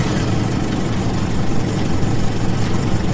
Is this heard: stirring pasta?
no